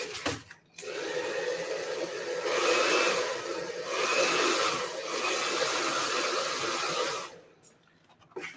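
A hair dryer blows steadily across a watercolor painting for about six seconds, its whooshing roar rising and falling slightly as it moves, then switches off; no voices.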